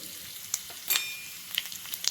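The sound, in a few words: mustard seeds and cumin tempering sizzling in hot oil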